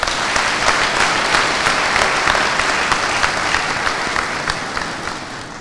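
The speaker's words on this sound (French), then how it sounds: "je vous demande tous de vous joindre à moi pour vous applaudir chaleureusement" Loud, sustained applause from an audience at a PDCI-RDA party ceremony, many hands clapping steadily for several seconds with no speech, then easing slightly toward the end.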